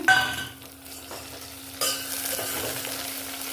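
Onions, garlic and tomatoes being sautéed in a pan for a Tirunelveli-style pakoda kuzhambu, a steady close sizzle with scraping stirs, growing louder partway through as more goes into the pan.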